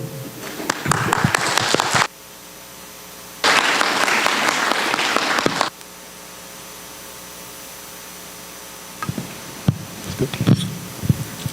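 An audience at a meditation summit in Virginia applauds, with two loud bursts of clapping separated by a pause and then a quieter hum with scattered claps near the end.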